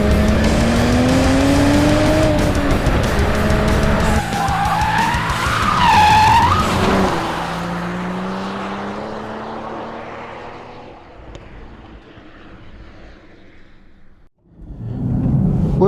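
A 2023 Toyota Supra with a manual gearbox driven hard on a fast track lap, engine revs rising and falling loudly through gear changes with tyre squeal, then easing off and fading before a sharp burst near the end.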